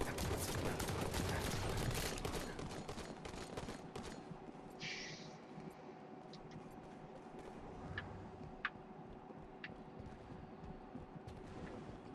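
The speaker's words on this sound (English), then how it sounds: "Where are you getting shot from?" Gunfire in Halo 5 Guardians free-for-all multiplayer: dense rapid bursts of shots at first, thinning into scattered, sharper single cracks over a quieter background.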